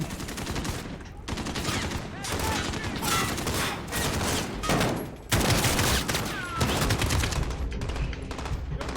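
An AK rifle fires in Call of Duty Modern Warfare, with repeated rapid bursts and single shots crackling at close range. Distant battle noise fills the background, and a voice talks briefly.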